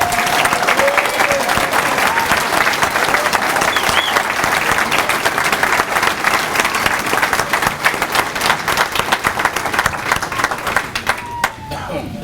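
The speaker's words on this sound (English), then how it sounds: "A nice round of applause for all of our graduates today" A crowd at a fire department recruit graduation ceremony applauds the new graduates, loud sustained clapping over many seconds that thins near the end, with voices mixed in.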